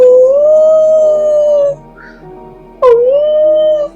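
A human voice imitates a dog crying and howling, with two long wavering wails separated by a short pause, loud and close, the second rising sharply before it settles into a sustained howl.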